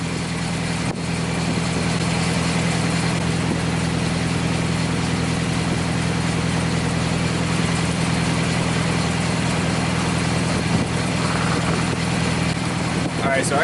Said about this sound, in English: it runs and it's idling fucking mint now